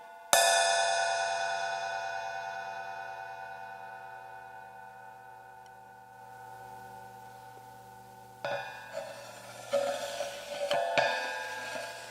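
A thick cymbal is struck once and rings with a bright, shimmering tone that slowly decays over several seconds, followed later by close scraping, rustling and light taps on the metal.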